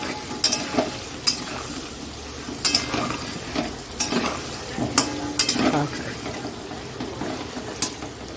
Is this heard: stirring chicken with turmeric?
yes